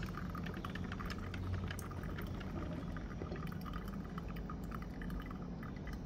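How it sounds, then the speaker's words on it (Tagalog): A steady splashing pour of coffee into a cup, continuous and close, with a faint bubbling hiss running throughout. "kunin natin to at ating ilalagay dito ang kape."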